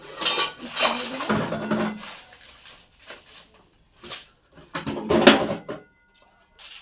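Yeast being mixed with water in a bowl for naan dough, giving bursts of clinking and scraping from the bowl and utensils separated by short quiet gaps.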